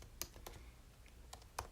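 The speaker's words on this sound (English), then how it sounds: "I'm now typing Seattle Seahawks," A few faint, quiet clicks of a computer keyboard being typed on, spaced irregularly with short pauses between keystrokes in an otherwise hushed room.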